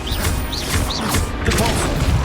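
A Confringo fire spell from the video game Hogwarts Legacy, with several short whooshing bursts and crashing impacts repeating through a busy, loud battle mix.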